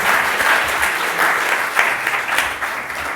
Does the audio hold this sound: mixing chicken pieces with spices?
no